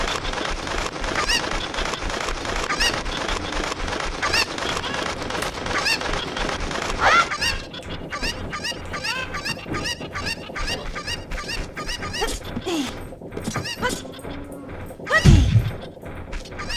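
Chickens cluck in The Legend of Zelda: Ocarina of Time, a dense stream of rapid squawks over game music, thinning out midway, with a louder crash-like burst near the end.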